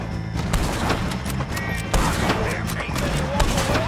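Continuous heavy gunfire from a shootout in Red Dead Redemption 2, with rapid overlapping shots and booms under shouting voices and dense background action.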